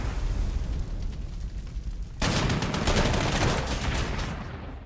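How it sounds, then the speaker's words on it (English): An artillery strike lands in the strategy game Panzer Corps 2: a quieter rumbling bed suddenly gives way to a loud, sustained explosive roar that fills the rest of the moment before easing at the end. "Can we hit that with artillery?"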